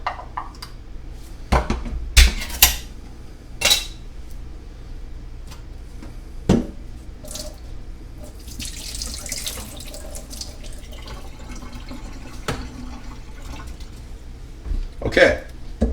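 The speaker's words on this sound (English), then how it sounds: "I'm going to use that, but I'm going to drain the liquid out of it." Liquid drains from a can of cut green beans into a kitchen sink, a soft pour and trickle with a few clanks of metal and dishes, under a voice speaking.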